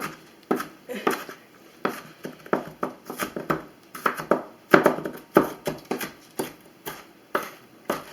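Knife chopping onion on a cutting board at home, a quick run of crisp, close taps in an uneven but steady rhythm, alone without talk.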